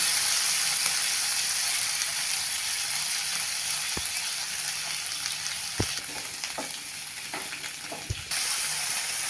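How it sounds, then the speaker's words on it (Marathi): Chopped onions and tomatoes sauté with salt in a hot pan, giving a steady, close sizzle throughout, broken by a few sharp clicks and scrapes of a spatula. "दोन मध्यम आकाराचे कांदे घेतलेले आहेत हे आपल्याला परतून घ्यायचं आहे"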